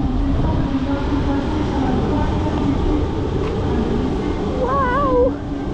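A diesel train at Lille Flandres station in France gives off a steady low rumble and hum throughout, with a brief warbling, wavering tone near the end and faint station ambience.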